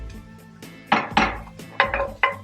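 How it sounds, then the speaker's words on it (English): Cooked fish being broken up with a utensil in a pan on the stovetop for fish tacos: a few sharp, close scraping knocks, spaced irregularly, then a quicker cluster of three near the end, with no talking. "I can just chop it all up."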